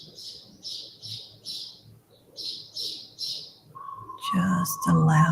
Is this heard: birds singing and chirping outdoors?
yes